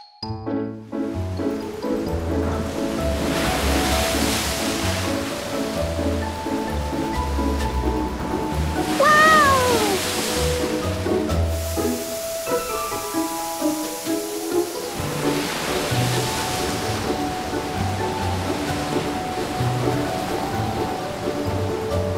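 Cartoon sea waves surge and wash in steady rolling swells, loud and continuous, with a few brief synthetic chirps over the surf.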